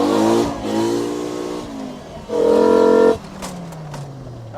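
A 5-cylinder swapped VW Golf mk2 GTI launches hard, its engine revving up through rising harmonics in two loud pulls with a brief dip between, close and dominant.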